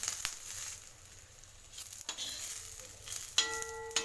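Food fries in a pan for a side dish, giving a soft, continuous sizzle with occasional scraping and crackling, fairly quiet throughout.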